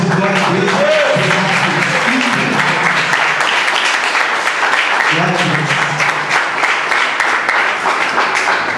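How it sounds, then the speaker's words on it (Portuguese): Applause from a church congregation, steady clapping lasting several seconds with raised voices over it near the start and middle. "Irmãos, dá uma salva de palmas."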